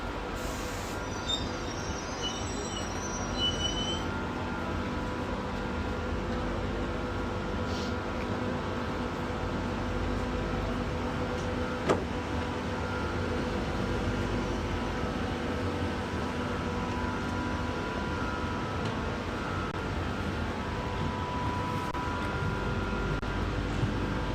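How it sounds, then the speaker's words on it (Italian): A steady, rumbling train passes through a station for a long stretch, with low mechanical roar, faint wheel squeals and clanks, without talking. "treno in transito al binario 11, allontanarsi dalla linea gialla"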